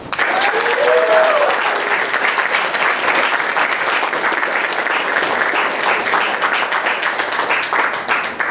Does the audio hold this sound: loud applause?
yes